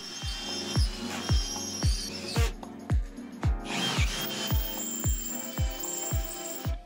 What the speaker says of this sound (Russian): Заводское крепление с резьбой 8 мм, поэтому его нужно высверлить.